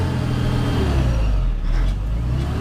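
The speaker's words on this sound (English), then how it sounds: "keep the revs up at 2000." A 1000bhp JCB Fastrac tractor engine held at high revs with the clutch slipping, a loud steady rumbling drone that stays close and continuous throughout.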